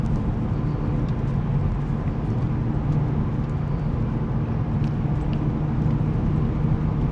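A VW Scirocco in sport mode rumbles steadily from inside the cabin while driving, a low, continuous engine and road drone with no distinct revs or peaks.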